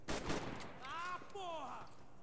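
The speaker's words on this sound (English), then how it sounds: "Shoot you one more time to make sure you dead" A rapid burst of gunfire opens a Max Payne 3 firefight, loud and close, and then a voice speaks over the fading echo.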